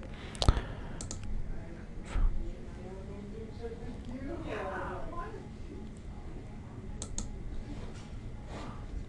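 A few sharp computer mouse clicks land near the start and again around the two-second mark while saving a downloaded Photoshop action to the desktop, a soft tick or two follows later, and a faint voice murmurs under a steady room hiss.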